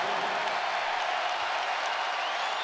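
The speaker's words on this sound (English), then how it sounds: "getting one heck of an applause" An arena crowd at an Iowa State vs Iowa basketball game gives a player sustained applause, a dense, even roar of clapping and cheering that fills the whole stretch.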